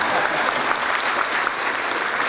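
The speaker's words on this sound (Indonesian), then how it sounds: "Tepuk tangan yang meriah" Dense, steady applause from a crowd at a gathering of Quran teachers in Solo, sustained at an even level without a break.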